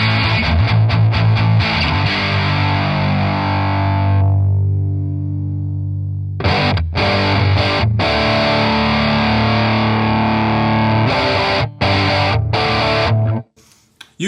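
High-gain electric guitar through a Line 6 Helix 3.6 amp preset, thick distorted metal-style chords ringing loud, a brief drop near silence before heavy sustained chugs resume, then a sudden cut at the end.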